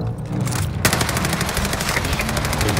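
Loud, rapid machine-gun fire in a video game, a steady stream of close shots that jumps in volume after the first second and keeps firing with no talk.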